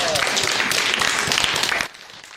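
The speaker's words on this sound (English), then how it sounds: "All right, give a round of applause." Brief burst of audience clapping follows a high school JROTC cadet's public speaking talk, dense and fairly close, cutting off abruptly after about two seconds.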